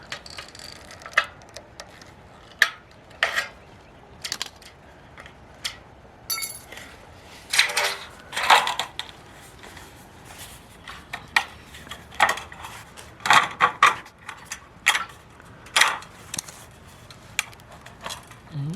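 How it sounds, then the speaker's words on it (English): Metal sheet is cut along a bend for a metal shed building, giving irregular, close, sharp snipping clicks and metallic clinks in uneven bursts. "It's always difficult to cut in a bend."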